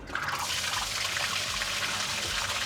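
Grey water from a camper, the runoff of dish and shower detergent, is used to rinse the vehicle, giving a steady splashing, trickling wash of water close by with no talk.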